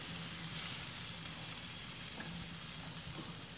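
Steak sizzles steadily on a barbecue grill, a dense, even hiss with no gaps, with a faint low hum beneath it and no talking.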